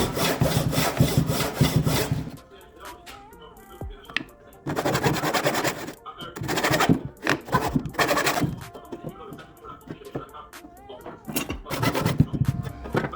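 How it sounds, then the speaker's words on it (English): A tenon saw cuts through wood for a cross halving joint, giving bursts of rhythmic rasping strokes with short pauses between them, close and fairly loud, while someone talks in between. "with the tenon saw, you pull it backwards and try to cut smooth."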